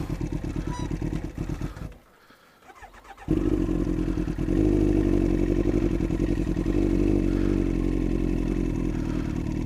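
A motorcycle ridden through snow on the clutch with the rider's feet down, its engine note droning and clattering, cutting out briefly, then returning louder and rising as it pulls away.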